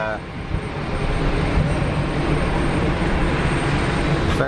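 Air France airliner at Geneva Airport, a loud continuous jet engine roar holding steady throughout, with a person talking over it.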